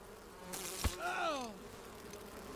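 Bees buzzing in the video game Enshrouded, a faint insect drone with a brief rising-and-falling buzz passing close, set against a quiet, steady game ambience with a small click.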